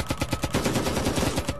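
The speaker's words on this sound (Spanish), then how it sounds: "Los disparos salieron de la nada." Rapid bursts of gunfire crackle in a fast, steady rhythm, close and loud, lasting under two seconds.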